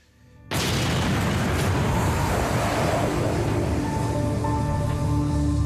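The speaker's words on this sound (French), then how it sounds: "Eh oui, l'obus a explosé." An artillery shell explodes with a sudden loud blast after near silence, followed by a sustained heavy roaring rumble that fills the rest of the moment.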